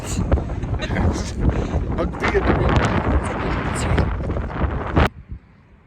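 Heavy wind buffets the microphone in loud, irregular gusts and rumbles, then cuts off abruptly near the end.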